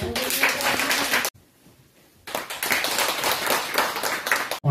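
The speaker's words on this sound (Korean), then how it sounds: "박수를 부탁드립니다" Audience clapping in a church service honoring a father invited as a witness, two close bursts of dense applause separated by a brief quiet pause, then cut short.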